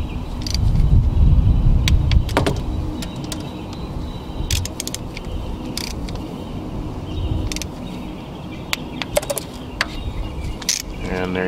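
A ratchet clicks in quick short bursts while bolts are tightened on a Toyota 2JZ engine, close and mechanical over a low background rumble, with no talk.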